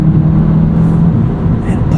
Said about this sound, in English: nice responsive engine